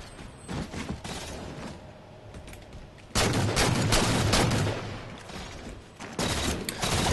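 Rapid bursts of automatic gunfire and single shots crackle through a Halo 4 multiplayer match, loud and dense, with brief lulls between heavy volleys and no voices over them.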